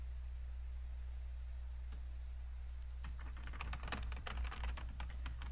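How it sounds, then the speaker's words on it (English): Rapid, uneven keystrokes on a computer keyboard, struck repeatedly and somewhat loudly after a quiet start, over a steady low hum while playing the indie horror game Bashed.OS. "I'm literally hitting all the keys."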